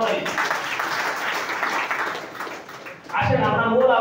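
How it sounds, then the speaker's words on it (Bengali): Sustained applause from an audience at a marketing plan presentation in a Dinajpur branch office, a steady dense patter lasting about three seconds before a voice begins speaking over it. "স্যারের উদ্দেশ্যে একটা সর্বোচ্চ করতালি"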